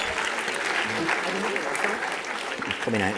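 Applause rises from the audience at a hospitality convention chef demonstration as a guest is called on stage, a brief dense burst of clapping with a voice speaking over it.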